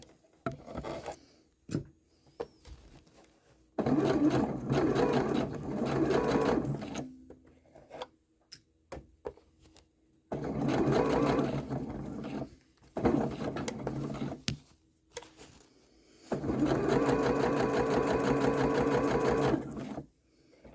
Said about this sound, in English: now I'm just sewing along that seam